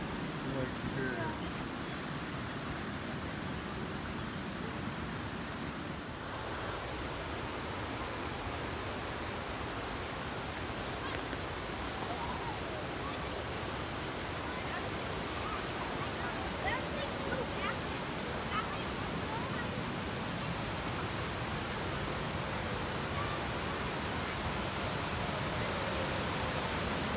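Lake Superior water at the Presque Isle scenic area in the Porcupine Mountains, a steady broadband rush like surf or rapids that carries on loud and unbroken throughout, with some wind mixed in.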